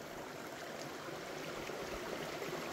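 A river tumbles over rocks on its way into Dzoumogné lake on Mayotte, a steady, close rushing of water with a constant gurgling wash that holds even throughout, with no voices.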